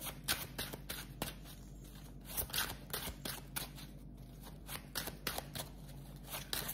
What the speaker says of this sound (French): Allez, je termine avec une carte du tarot.